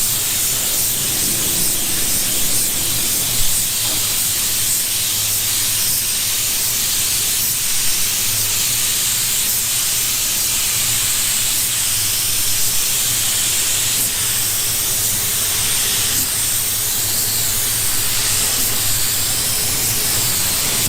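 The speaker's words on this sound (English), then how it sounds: "So we're gonna go over this whole thing real quick with some primer" A spray gun lays primer over a car body in a continuous loud hiss that holds steady throughout with no pauses and no voices.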